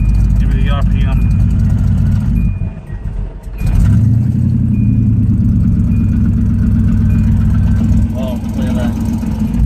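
A small-block Chevy V8 fitted in a Nissan D21 pickup idles with a loud, steady, low rumble that dips briefly once, while someone talks over it during carburetor tuning.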